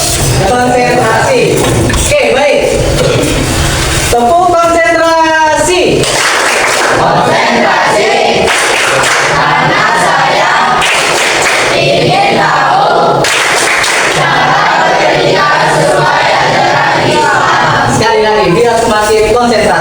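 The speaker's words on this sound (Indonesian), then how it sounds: "Oke, ice breaking seperti biasa ya. Oke, tepuk konsentrasi." A class of students does a concentration clap routine, shouting a rhythmic chant together with bursts of clapping, loud and close, voices of a group carrying the pattern throughout.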